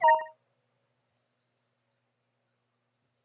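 A brief electronic beep from a phone, a short burst of a few tones lasting under half a second, then silence.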